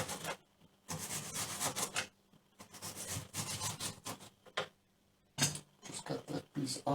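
A knife cuts thin slices from an apple, giving repeated close rasping, scraping strokes in short bursts separated by brief pauses, with faint handling noises and no talking.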